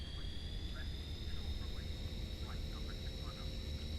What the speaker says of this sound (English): let's spool up the engines before we switch back to the cockpit, and now listen to that